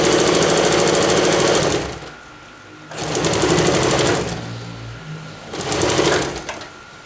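A sewing machine stitches the fabric sides of a jungle hammock, running in three loud, close bursts of rapid mechanical whirring and clatter, separated by short quieter pauses.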